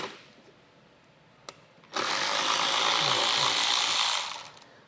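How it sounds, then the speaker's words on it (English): A ratchet driver backs out T25 screws from under the front fascia of a 2013 Mini Clubman, a single click followed by a steady, loud two-second burst of fast ratcheting that then fades. "Underneath our fascia, we're going to need to remove 2 T25 screws,"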